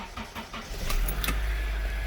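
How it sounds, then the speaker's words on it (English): Honda CR-V ignition turned on and engine starting, a brief crank followed by a low steady idle rumble, close and fairly quiet. "Then we'll turn the ignition on"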